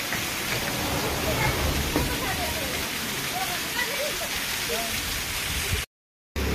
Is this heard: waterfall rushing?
yes